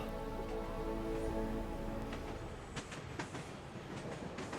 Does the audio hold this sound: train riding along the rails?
yes